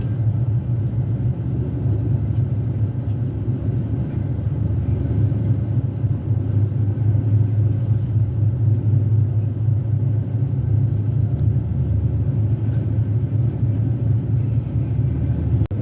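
Kumbha Express (12369, Howrah to Haridwar) running through Bardhaman station without stopping, a steady, loud, low rumble of the moving train that holds unbroken for the whole stretch with no voices.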